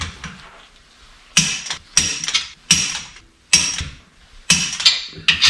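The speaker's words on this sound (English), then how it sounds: "Gonna torque the deck plate up." A torque wrench tightens a deck plate onto a sprint car engine block in a manual machine shop, giving six or so sharp metallic ratcheting bursts at a steady pace, close and loud, with quiet gaps between pulls.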